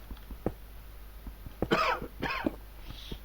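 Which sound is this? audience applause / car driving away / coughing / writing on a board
coughing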